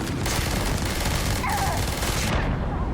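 Enemy weapon fire in the video game Starfield pours out as a dense, loud, continuous burst of rapid shots that fills nearly three seconds before cutting off abruptly.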